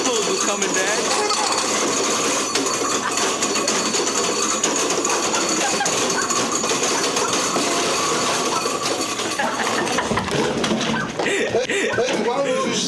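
A household garbage disposal runs with a wrench left inside, giving a dense, continuous grinding rattle at close range that fills the whole stretch, with people talking over it.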